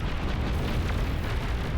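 Heavy Fat Boy cannon fire and explosions from the Beyond All Reason strategy game form a dense, continuous rumbling roar of booms and blasts with no clear gaps, loud and sustained throughout.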